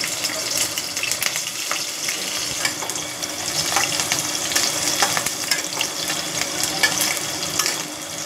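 Green chillies fry in hot oil in a pan for egg bhurji, giving a loud, steady, crackling sizzle that holds from start to finish with faint stirring clatter.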